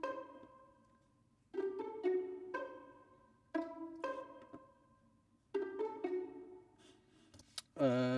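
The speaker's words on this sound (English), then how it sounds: "So I replaced that with some plucked violins from my" Plucked violins from the Soundiron Hyperion Strings Micro library in a dark trap beat, short pizzicato notes in sparse clusters with reverb tails, quiet and alone, ending on a brief swelling tone.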